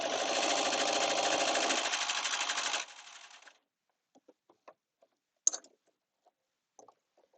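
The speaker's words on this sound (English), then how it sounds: "It's going to trim short the fabric, and then it's going to loop thread around the edges of it." A serger sewing machine runs at speed for about three seconds, trimming fabric and looping thread over the edges with a dense mechanical whir, then stops, followed by a few faint clicks and handling taps.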